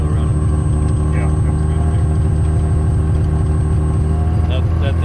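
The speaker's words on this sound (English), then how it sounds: "It's a loud airplane." Small private airplane engine droning loudly in flight over early fall colours, a steady close cabin roar with strong low harmonics throughout, with people talking over it.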